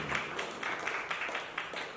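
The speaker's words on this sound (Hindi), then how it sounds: "इन सबके लिए मेरे जोरदार तालियां होंगी" Audience applause at an event, a soft spread of many hands clapping at a distance, fairly faint and continuous with small swells.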